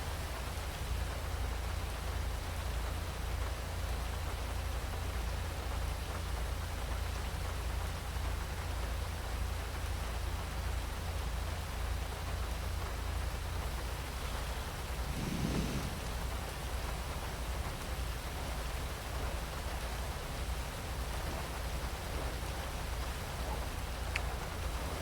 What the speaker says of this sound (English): Rain looks like it's letting up.